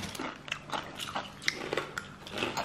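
Crunchy bites into Lays Forno baked chips with mint flavour, several close, crisp crunches and chewing in quick succession with no talking.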